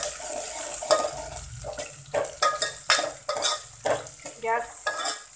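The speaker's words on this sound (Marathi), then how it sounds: "आता छान फ्राय करून घ्यायचा आहे" Two large lengthwise-sliced onions frying in a pan, a soft sizzle under frequent clinks and scrapes of a spoon stirring against metal, close and fairly quiet, no talking.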